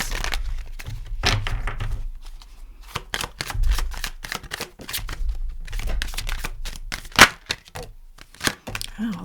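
Oracle cards are shuffled by hand in a run of quick riffling flicks and soft slaps, close and irregular, with a few sharper snaps near the end and brief bits of speech between them.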